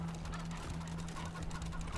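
Chickens in the video game Wasteland 3 clucking in a quick, faint, continuous run of short calls beneath a low steady hum.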